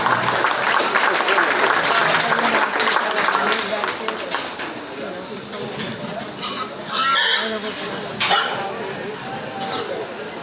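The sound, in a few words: applause at county fair swine show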